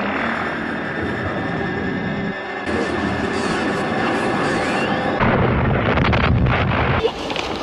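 A cartoon spaceship's wave motion cannon fires: a loud, sustained roaring blast that swells in stages into a dense, rumbling explosion, unbroken for several seconds with no voices.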